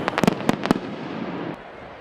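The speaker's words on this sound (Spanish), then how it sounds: "Buenas noches y bienvenidos a la retransmisión de los fuegos artificiales" Fireworks at a festival display on 7 July: a quick burst of sharp, loud bangs in the first second, followed by a lingering crackle and rumble that fades away, with no talking.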